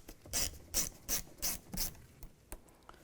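Five short, evenly spaced rasping scrapes from a T15 Torx driver loosening the mass airflow sensor screws on a 2007-2013 Chevy Silverado, close and distinct, followed by a couple of faint clicks.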